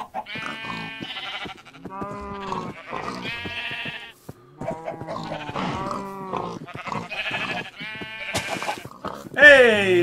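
Sheep bleating in Minecraft, a run of wavering bleats close up that continues across the whole span, mixed with a player's voice.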